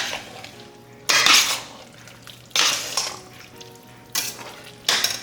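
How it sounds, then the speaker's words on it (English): Canned pinto beans being stirred into chili in a pot, four separate bursts of spoon scraping and wet sloshing against the metal, each about a second long with quiet gaps between. "Then this is a can of pinto beans. Stir it up."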